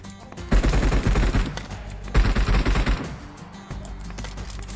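Gunfire in PUBG Mobile: two rapid bursts of automatic shots, each lasting about a second, loud and close, separated by a short pause, followed by quieter background noise.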